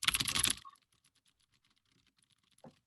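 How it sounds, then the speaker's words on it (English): Rapid clicky typing on a mechanical keyboard fitted with Cherry MX Blue switches, a short dense burst of keystrokes up close that stops abruptly, followed by near silence and one faint thump. "It's a mechanical keyboard with Cherry MX Blue switches."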